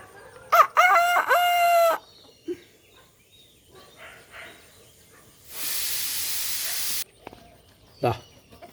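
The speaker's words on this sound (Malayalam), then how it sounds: "കാക്കാളിനെയൊക്കെ ഈ കോഴികൾ വന്ന് ഓട്ടിക്കാണല്ലോ" A rooster crows loudly nearby, followed by scattered soft clucks, a long burst of steady hissing, and one more short squawk near the end.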